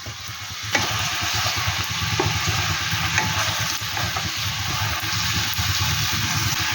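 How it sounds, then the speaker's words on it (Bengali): Chicken frying on a low flame crackles and sizzles steadily, with occasional stirring clinks breaking the continuous close hiss. "চিকেনটিকে আমি লো ফ্লেমে ভালো করে ফ্রাই করতে থাকি"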